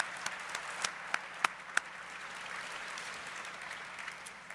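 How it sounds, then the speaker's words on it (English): An audience at an annual dinner claps for a few seconds, with several sharp individual claps standing out near the start before the applause settles into a steady, moderately distant patter. "One small innovation, yeah, that's worth applauding."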